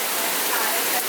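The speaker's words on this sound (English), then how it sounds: "a really nice downpour" Heavy monsoon downpour pouring onto a balcony garden in Mumbai, a dense, steady wash of rain noise throughout, loud and close with no pauses.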